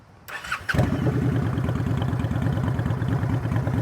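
A Honda Shadow VT750 Phantom motorcycle with an aftermarket exhaust starts up. A short starter crank catches into a strong, rhythmic, throbbing idle that runs loud and steady, close by.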